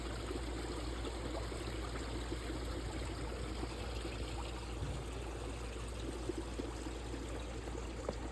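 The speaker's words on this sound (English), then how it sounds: "Even the waterfall itself is partially froze back underneath where it comes in at." Water runs steadily beneath a partially frozen koi pond waterfall in winter, a constant close rushing trickle with no voices over it.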